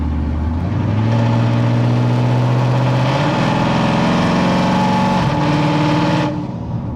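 A loud Dodge Hellcat engine revs up close, its pitch climbing and holding high before dropping off abruptly near the end.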